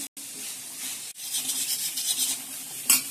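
Vegetables for chicken fried rice fry in a hot pan, a close, continuous sizzle with scraping and rubbing from stirring, briefly interrupted near the start.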